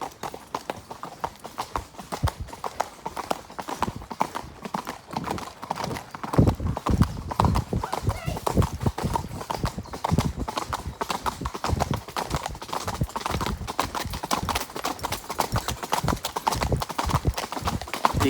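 Horse loping along a long rural track beside a road, hooves clip-clopping in a steady rolling three-beat rhythm, close and fairly loud throughout with occasional snorting.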